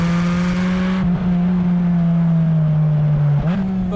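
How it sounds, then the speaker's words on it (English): Porsche 718 Spyder RS with a GT3 engine and particulate-filter exhaust howls under steady load, a loud close drone holding pitch, dipping briefly at a gear change and again near the end. "Exhaust noise is really nice. You can hear that GT3 howling."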